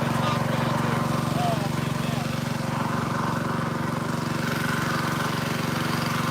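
A steady engine drones continuously at a gold mining dredge site in North Georgia, loud and close with a constant rumble, while a person talks over it.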